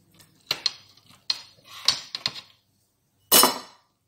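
Rice flour halwa, also called black halwa, is sliced with a knife on a plate. Several close, sharp clinks and taps are followed by a pause and one last louder scrape.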